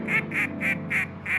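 Five evenly spaced duck quacks on a South Dakota waterfowl hunting outing, fairly loud and close, each a short nasal call with brief gaps between.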